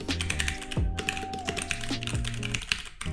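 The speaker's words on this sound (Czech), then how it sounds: "Můžete chvilku posehnout tu klávesnici." Rapid, steady keystrokes on a 60% gaming keyboard during a Fortnite session, with dense clicky typing throughout and game sounds faintly underneath.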